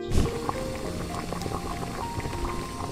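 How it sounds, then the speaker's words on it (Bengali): A pot of mixed mung and masoor dal with tomato boils at close range, bubbling and popping in a steady burble with no voices. "ডালটা ফুটে গেছে, চেক করে নিই।"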